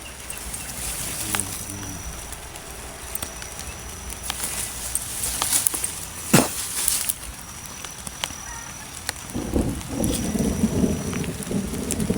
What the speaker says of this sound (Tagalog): lakas po yung ulan